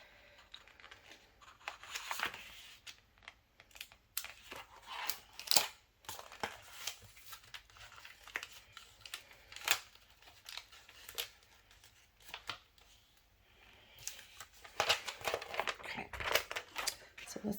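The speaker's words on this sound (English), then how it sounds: "let me peel back my transfer tape" Crinkly peeling and crackling of transfer tape pulled back from cut vinyl at a Christmas crafting table, coming in uneven bursts with louder stretches near the start and end, while a person talks over it.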